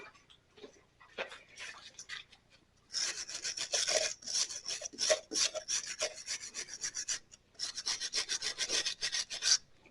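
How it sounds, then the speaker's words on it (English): A wire brush scrubs in bursts of rapid raspy strokes, scouring thick silicone off the piston of a 1933 Maytag Model 92 engine; close and fairly loud, with short pauses between rounds. "a wire brush will take that silicone off"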